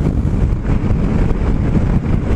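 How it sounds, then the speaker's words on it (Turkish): Strong wind buffets the microphone continuously while riding a Yamaha X-Max 250 scooter outdoors, a loud, steady low rumble with gusty fluctuations throughout. "Ama bugün çok rüzgar var ya."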